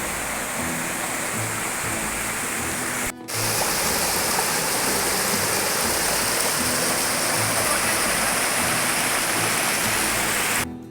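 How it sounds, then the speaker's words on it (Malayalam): Rain-swollen stream water flows in a loud, constant roar, broken once by a brief drop-out before the torrent continues unabated. "മഴ പെയ്തുകൊണ്ട് നല്ല പോലെ വെള്ളം ഒഴുകുന്നുണ്ട്"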